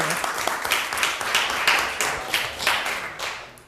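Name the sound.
round of applause at city council meeting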